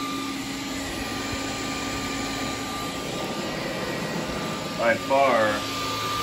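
Dyson and iRobot Roomba vacuum cleaners running together at medium suction, a steady loud broadband whir with a faint tonal hum throughout, and someone speaks briefly over it near the end.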